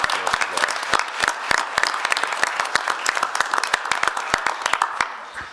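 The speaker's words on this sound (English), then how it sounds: "let's give a round of applause to the parents of these girls" A room at a county fiscal court meeting claps for the parents of honored girls, with dense, sharp hand claps rattling on steadily for several seconds, loud and close, with faint voices under them.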